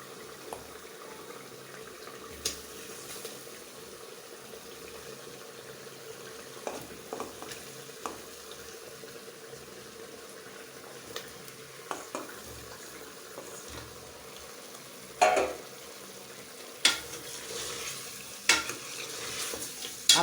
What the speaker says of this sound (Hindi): मैं इसमें अब ये चिकन डाल रही हूँ